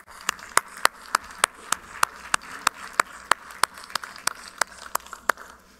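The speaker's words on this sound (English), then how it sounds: "A big applause for them, please." An audience at a football conference panel applauding the speakers, heard as a steady, evenly spaced run of sharp, close claps repeating about three times a second.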